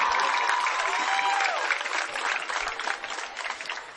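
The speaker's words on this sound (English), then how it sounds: "Let's give them a round of applause." Crowd applause fills the stands at a Norwell vs. Bellmont high school football homecoming, a steady wash of clapping and cheering that holds for the whole stretch, with a voice faintly mixed in.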